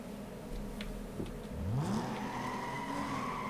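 A car engine revs up and accelerates, pitch sweeping upward, then holds a steady whine; game-style engine sound, moderately loud, no voices.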